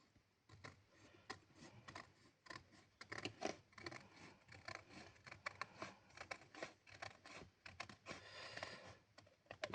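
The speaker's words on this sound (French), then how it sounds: "Couper au ciseau." Scissors cutting paper for a mini album's white base pages, a close, quiet run of rapid crisp snips and rustles, continuous with brief gaps.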